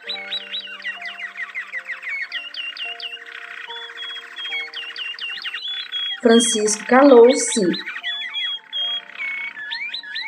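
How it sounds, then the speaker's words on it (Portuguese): Many birds sing together in overlapping chirps, trills and whistles, with a brief narrating voice and a louder burst of calls midway. "Os pássaros redobraram-se em cantos, todos de uma só vez."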